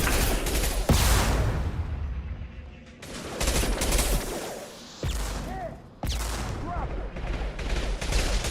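Shotgun gunfire in the video game Mass Effect 2, with several loud, sharp blasts spaced a second or two apart amid dense combat noise, mixed with other weapon fire and voices in the scene.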